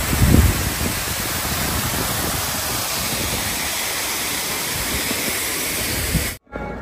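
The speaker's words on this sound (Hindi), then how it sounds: "ऊपर से झरना आ रहा है" Waterfall on the Kedarnath trail, where water pours down from above beside the mountain path, giving a loud continuous close rushing hiss that runs steadily until a short break near the end.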